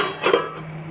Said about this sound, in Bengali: এবার আমি এটা একটু ঢেকে রেখে দেবো